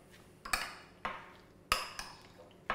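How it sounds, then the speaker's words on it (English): Cutlery clinks and scrapes against a bowl while cucumber raita with salt and pepper is mixed, four or five sharp close knocks spaced irregularly, with no talking. "Then we're just gonna mix her up."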